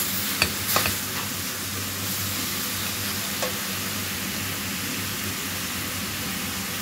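Food cooks gently over moderate heat in a pan with a little oil and fresh cream, giving a steady, soft sizzle with a few faint clinks of stirring near the start. No voices are heard.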